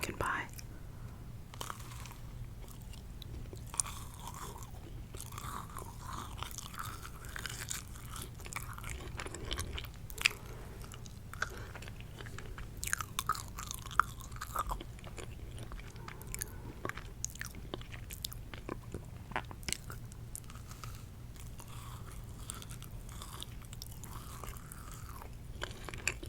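Close chewing and crunching of a pumpkin-pie-flavoured snack in a whispered mukbang, soft, steady bites and mouth sounds running under quiet whispering.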